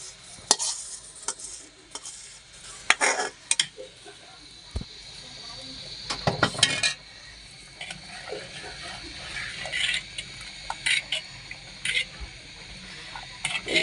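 Caramel being stirred into milk payesh in a pot produces irregular spoon scrapes and clicky knocks against the metal, with a faint bubbling sizzle underneath, close and fairly quiet between sharper strokes.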